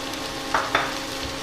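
Carrot rounds and spices sizzle softly in a pan over lowered heat, with two quick stirring scrapes breaking through the steady frying hiss.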